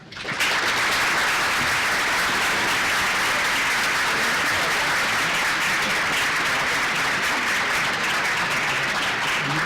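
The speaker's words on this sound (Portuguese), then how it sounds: "uma salva de palmas" Audience applause for panel members at a university event marking 25 years of Brazil's Plano Real, a dense, steady roar of clapping that holds loud and unbroken from start to finish with no talk over it.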